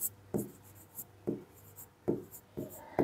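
Chalk or marker writing on a board during a calculus lecture, several separate bursts of scratchy strokes with short pauses between them, close and moderately loud, with no talking.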